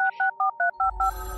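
A video game telephone gives six quick, evenly spaced electronic beeping rings, loud and close, followed by a low rumbling noise as the ringing ends.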